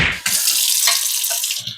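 Hot water gushes steadily from a kitchen tap into a sink for washing an RC car body, a close, bright splashing rush lasting under two seconds.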